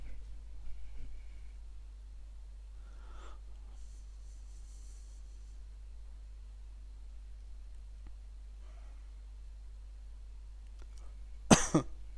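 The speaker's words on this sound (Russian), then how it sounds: "извините, покашливаю я все еще" A commentator casting a Dota 2 esports match coughs once, a sharp loud burst near the end after a long stretch of quiet hum with no talk.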